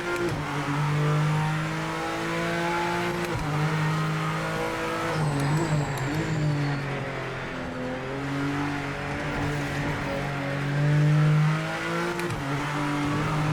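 GT3 race car engine in the video game Project Motor Racing, droning loudly with deep grunt as it revs up and down through gear changes, with brief tire squeal, continuous and close with no talking.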